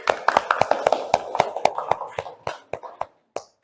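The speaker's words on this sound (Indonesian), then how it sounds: "Tepuk tangan" Students in a classroom clap their hands in a run of sharp, separate claps, fast and fairly loud at first, then slowing and thinning out to a few last claps.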